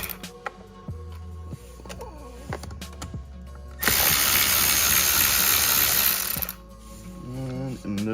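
Ratchet removing 10 mm bolts from a 2006-2010 Dodge Charger steering wheel: several rapid clicking bursts, then a long, louder stretch of fast ratcheting, close up, with someone talking at times.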